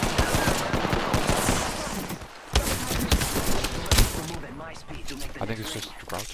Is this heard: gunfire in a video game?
yes